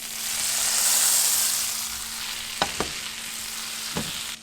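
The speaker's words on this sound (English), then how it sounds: "We're throwing a good chunk of butter in there." A good chunk of butter sizzles with shallots in a hot pan, a steady close hiss broken by a few clinks of a utensil.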